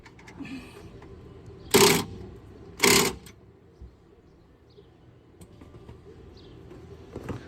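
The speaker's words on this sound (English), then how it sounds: "you can hit it with the impact gun on the outside. Tighten up that front one." Impact gun tightening the front spring bolt on a 2018 EZGO golf cart, two short loud rattling bursts about a second apart over quiet shop background.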